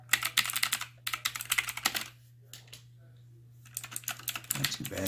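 Rapid clattering keystrokes on an AUKEY 104-key RGB backlit gaming keyboard, close and fairly loud, in bursts broken by a quiet pause, over a steady low electrical hum.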